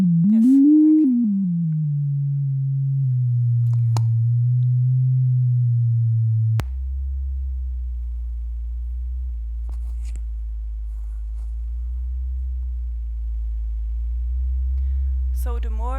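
Sonified tree stress data rendered as a sustained pure tone that glides and settles, then drops to a deep steady low hum for the remainder, with a brief chirping flourish at the very end; no voices.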